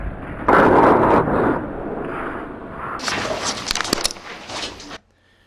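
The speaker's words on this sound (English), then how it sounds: "It sounds like some kind of explosion, probably dynamite." Slowed-down recording of a dynamite blast in a mine, a loud deep rumbling burst that opens abruptly, roils and crackles for several seconds, then cuts off sharply.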